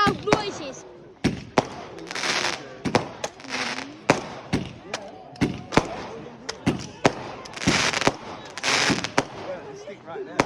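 Fireworks bursting overhead in a rapid string of sharp bangs and crackling showers, some near and loud, some softer, with people's voices audible between the blasts.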